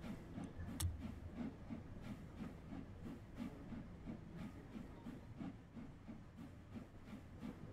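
A Class 323 electric train runs down the Lickey Bank toward Bromsgrove, heard faintly at a distance as a low steady rumble with regular rhythmic clicks from the wheels.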